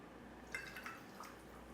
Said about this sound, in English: The last step is just to top off each of these with a little bit of soda water.